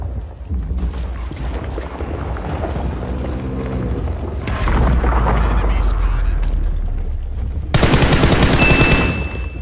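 Video game gunfire crackles through a steady rumbling battle background, with bursts of shots growing louder toward the end.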